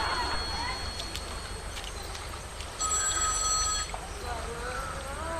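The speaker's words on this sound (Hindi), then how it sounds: "फिर फोन आबि गेलै।" A telephone rings in a steady electronic tone for about a second, with people talking around it and background chatter throughout.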